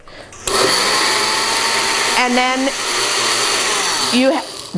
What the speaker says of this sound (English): you mix this all up on a blender